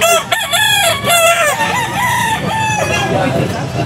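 A full stag gamecock rooster crows loudly and close by at a busy pet market, its long wavering call filling the moment, with faint background chatter under it.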